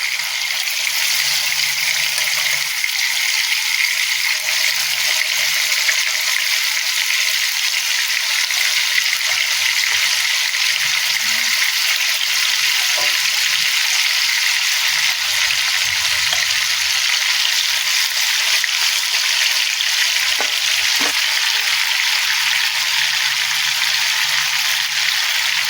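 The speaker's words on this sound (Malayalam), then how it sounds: "ഇനി ചിക്കൻ പീസസ് ഇട്ട് വറുത്തെടുക്കാം." Chicken pieces shallow frying in oil for chicken changezi give a steady, dense sizzle that holds even and close throughout, with a few faint stirs and clinks now and then.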